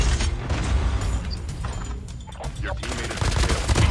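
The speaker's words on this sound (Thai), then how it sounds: "เสียงยิงขวา" Gunfire in Call of Duty Mobile battle royale mode with an M13 rifle, heard as a busy run of rapid mechanical shots and clatter that stays fairly loud throughout.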